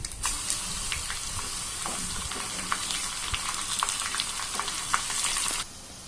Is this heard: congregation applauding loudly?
no